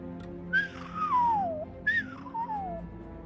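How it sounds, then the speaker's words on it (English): A person whistles two clear descending notes, each sliding downward for about a second with a short gap between, fairly close and alone with faint background hum, heard over a voice chat connection. "Impressed that the whistle came through Discord's noise canceling."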